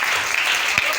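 A church congregation applauds in praise of the Lord, a dense, steady wash of clapping filling the room throughout, with one soft low thump partway through.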